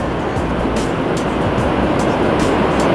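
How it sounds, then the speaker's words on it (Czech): Huge ocean waves break on a wide New Zealand beach, a loud, continuous roaring rush of surf close by, with no talking. "A takovýhle mega vlny všude."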